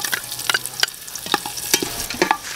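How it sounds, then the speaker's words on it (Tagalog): Onion, garlic and ginger sautéing in a pan, heard as a light sizzle broken by sharp scraping stirs of a utensil every half second or so, close and clear with no voices. "nag-caramelize na lahat yung ating mga ginisa na sibuyas, bawang at luya"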